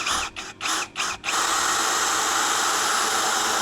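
A DongCheng DCJZ2090i cordless impact drill at speed 1 whirs in several quick trigger pulses, then runs steadily at a loud high-pitched whine.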